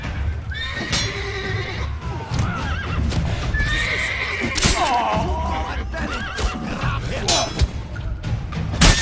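Horses in The Witcher 3 neigh and whinny over steady clip-clopping hooves, with thuds and a busy game soundscape running throughout.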